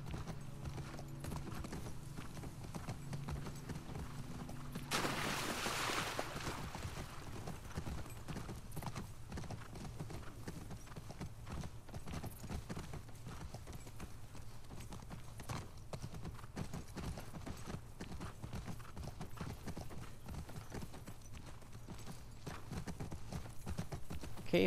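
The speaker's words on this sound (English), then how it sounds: "Let's use the horse to go back." Horse hooves clip-clop in The Last of Us Part II, a quiet, steady stream of regular hoofbeats over a low ambient bed with no talking.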